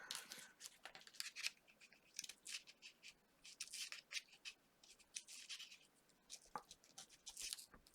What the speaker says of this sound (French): Les ciseaux pour couper le tissu, c'est pas l'idéal, cela.